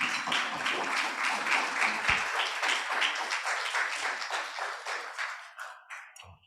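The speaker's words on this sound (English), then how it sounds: "Give him another round of applause" Audience applause after a presentation at a health summit, a dense wash of many hands clapping steadily for several seconds before thinning out and fading near the end.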